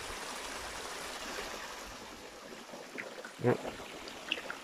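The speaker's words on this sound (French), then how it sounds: "je laisse faire le son du ruisseau pour aller ailleurs" A forest stream flows in a steady, soft wash of water running over stones, close and continuous, with a few brief knocks and faint rustles near the end.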